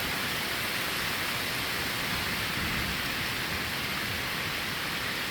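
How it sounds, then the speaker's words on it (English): Heavy rain pours down steadily during a storm outdoors on a hunting trip, a dense, loud, unbroken wash of noise with no gaps or voices. "It's raining now."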